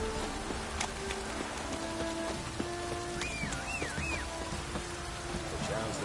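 Steady heavy rain hisses continuously in The Witcher 3: Wild Hunt video game, with scattered chirps and tones layered over the downpour.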